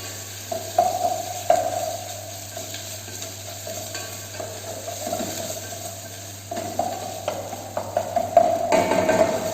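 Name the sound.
onion and ginger garlic paste sautéing in pan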